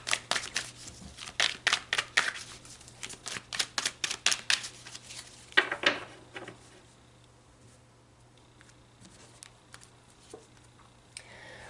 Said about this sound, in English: So let's pull some cards and go deeper.